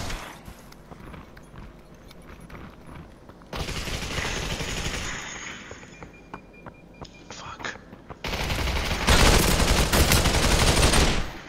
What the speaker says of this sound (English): we're under fire